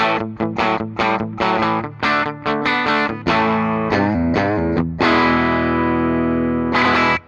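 Distorted electric guitar on the bridge humbucker of a 2025 Fender American Professional II Sandblasted, with a thick, bright tone playing choppy chords, then letting sustained chords ring out near the end.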